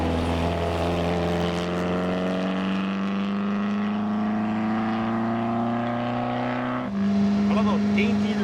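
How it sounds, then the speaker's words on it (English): A sports car engine drones steadily with a rich, throaty exhaust note, rising slightly in pitch and loudness near the end. "I just love the exhaust note."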